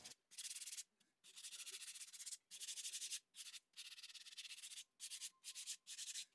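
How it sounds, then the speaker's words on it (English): A sanding sponge lightly rubs over dried mud ridges on a DIY home decor piece in a series of close, quick scrubbing strokes, each run of rasping broken by short pauses. "Next, I took a sanding sponge and lightly sanded the ridges just to knock off any of those sharp spots."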